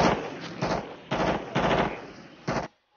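Machine gun fire in a Vietnam war film: four or five sharp sustained bursts of rapid automatic shots, loud and close, separated by short gaps and ending abruptly in silence.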